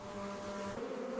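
Bees buzz at a bee farm, a steady low insect drone with a faint whine on top. It sounds fairly quiet and continuous, with no voices.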